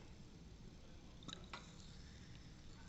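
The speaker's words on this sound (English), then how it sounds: "you see that bubbling away there now" A carbonate sample effervescing after nitric acid is added in a qualitative test gives a faint, steady fizzing hiss, with a couple of brief liquid drip-like ticks near the middle.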